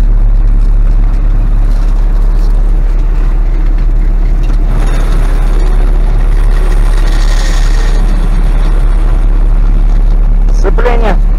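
A DT-75 crawler tractor drives along a road with its engine running, giving a loud, heavy, continuous rumble that fills the whole stretch at close range.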